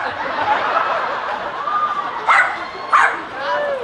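A dog-barking sound effect plays over a loudspeaker on a lô tô show stage, two sharp bursts of barks cutting through ongoing talk and laughter from the performers.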